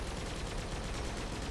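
A machine gun fires in the combat racing game Grip, a steady rapid rattle of repeated shots over dense engine roar, fairly loud and continuous with no talking.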